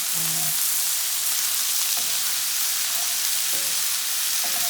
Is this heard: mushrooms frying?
yes